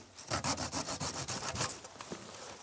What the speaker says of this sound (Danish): Man skal da i hvert fald kunne save med en fugtsvans